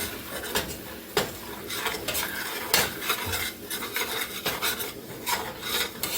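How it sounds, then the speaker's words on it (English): A spoon scrapes and rasps around a pot, stirring a teaspoon each of salt, basil and pepper into a mixture, with rhythmic close strokes and occasional clinks against the metal. "We're going to stir that around."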